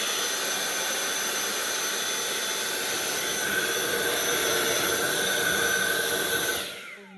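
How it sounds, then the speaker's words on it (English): A Dyson V8 Absolute cordless vacuum running on max suction with nothing attached, a loud steady high-pitched whine and rushing airflow held for several seconds, then quickly winding down as it is switched off. "let's test it and see what happens when we have it on max suction"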